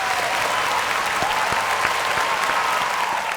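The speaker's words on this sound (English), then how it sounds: "Never heard to clap that hard, guys." An audience bursts into loud, sustained applause, a dense wash of clapping hands that holds steady from start to finish.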